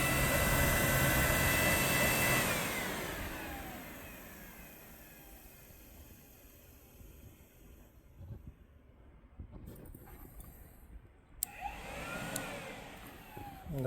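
The cooling fan of a Kawasaki VN900 motorcycle with the ignition on whirs loudly and steadily, then fades away over a few seconds into quiet, broken by scattered small clicks and knocks.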